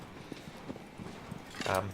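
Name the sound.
horse galloping in video game Shadow of the Colossus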